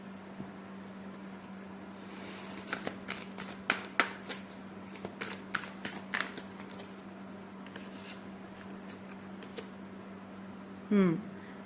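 Oracle cards are shuffled by hand, making a string of quick crisp flicks and soft slaps over a steady low hum. A brief burst of rustling handling follows near the end.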